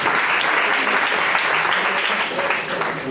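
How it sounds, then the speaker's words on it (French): Student association integration gathering in Saint-Louis, with the crowd applauding a team score, a dense steady wash of clapping that stays loud throughout and fades slightly at the end. "sur les applaudissements s'il vous plaît"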